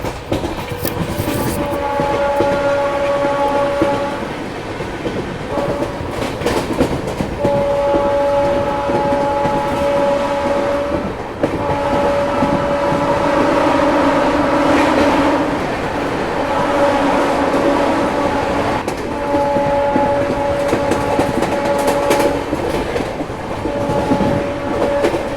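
A Shatabdi Express train running at speed past Jalandhar Cantt station on the Jammu–New Delhi main line, with steady loud rumble, rhythmic wheel clatter and a sustained horn blowing at intervals, heard from on board.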